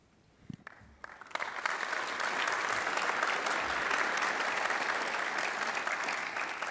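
A school awards ceremony audience breaks into applause: a few scattered claps at first, then dense, sustained clapping from a full hall that holds steady to the end.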